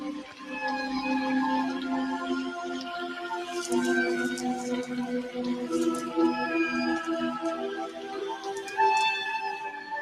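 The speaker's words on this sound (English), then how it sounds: "we have whale sounds" Long, wavering whale calls glide and moan in layered tonal cries within the 1985 Legend film score by Tangerine Dream, loud and continuous without speech.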